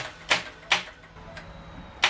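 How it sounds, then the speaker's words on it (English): A Ford EcoBoost engine's starter clicking on a jumper booster pack with no battery installed, three or four sharp, close, isolated clicks spaced irregularly across a couple of seconds. "that was just a bunch of clicking"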